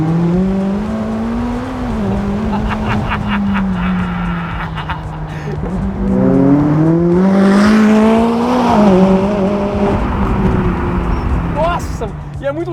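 A McLaren 570S Spider drives through city streets at night, its engine rising and falling as it shifts up through the gears, loud and close from inside, with someone talking excitedly over it.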